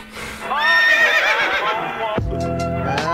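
A horse neighs loudly and close, a long, wavering whinny that holds for about two seconds before cutting off, followed by a sustained tonal sound.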